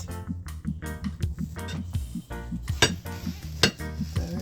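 Hot banana bread fresh from the oven being cut on a plate, busy clinking and scraping of a utensil against the dish in an uneven series of sharp taps, close up and with no voices.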